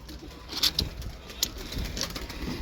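Pigeons cooing in a rooftop loft, a few soft throaty coos with some faint wing flutter, fairly quiet and close, with no voices.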